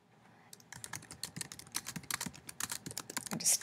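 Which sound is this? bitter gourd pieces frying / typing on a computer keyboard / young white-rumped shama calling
typing on a computer keyboard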